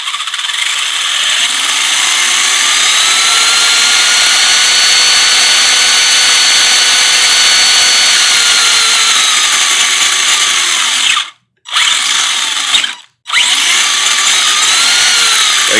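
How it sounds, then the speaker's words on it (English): A Helion Conquest 10MT XB RC truck on a stand runs its motor on a 3S lipo, a loud high-pitched electric whine rising and falling in pitch, cut by two short silent pauses near the end. "just got my stand on it, so I'm gonna run this real light"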